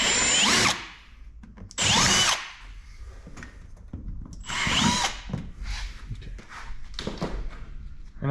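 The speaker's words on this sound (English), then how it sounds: "I'm gonna bore these out just a little bit so the bolts slide in there a little better." A power drill bores out bolt holes in plastic Yamaha Viking trim in three loud, separate bursts, each about a second long. Quieter handling noise and rustling fill the gaps between them.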